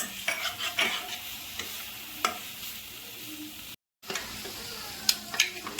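Spices sizzle in hot oil with onion, ginger, garlic, cumin powder and green chili for a Bengali potato curry. A utensil stirs and scrapes the pan in repeated strokes over the steady frying hiss, broken by one brief moment of silence.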